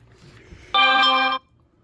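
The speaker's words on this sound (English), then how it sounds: "my phone made a sound while I'm filming" A phone chimes once with a bright, steady tonal notification lasting under a second, clear and close, in an otherwise quiet kitchen.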